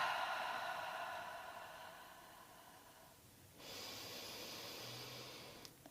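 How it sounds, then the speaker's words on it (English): Slow, calm breathing during a seated chair yoga session: a long airy exhale fades out, then a soft steady inhale follows, close and quiet, with no speech. "A couple more breaths."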